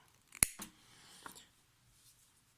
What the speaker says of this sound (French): On va étaler ma paire de ciseaux. Je coupe assez large